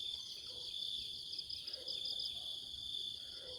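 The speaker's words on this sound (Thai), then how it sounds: "เสียงจิ้งหรีดก็ยังร้องอยู่" Crickets chirp in a rural Thai village at early morning before sunrise, a continuous high shrill trill that stays steady throughout, faint and even, with occasional soft background sounds below.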